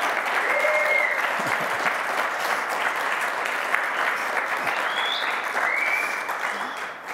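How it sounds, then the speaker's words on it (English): Conference audience applauding after a programming talk at Code BEAM America, a steady, full round of clapping with a few sharp whistles rising over it and some faint voices underneath. "A round of applause first."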